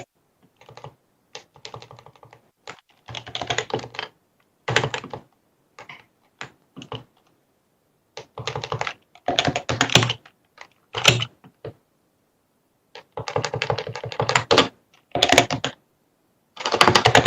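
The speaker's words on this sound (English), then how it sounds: "Sorry about my typing noise, my keyboard is loud, right?" Loud typing on a computer keyboard during live coding, close and crisp, with clattering key bursts broken up by frequent pauses and a few heavier key strikes, and no talk over it.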